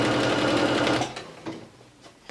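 Sewing machine running fast as it stitches a fabric border onto a round towel, a loud continuous whir for about a second, then quieter short bursts and pauses.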